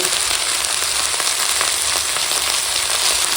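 Chopped red amaranth greens frying with onion, chili and garlic make a loud, continuous sizzle with dense crackling hiss throughout, heard close and alone.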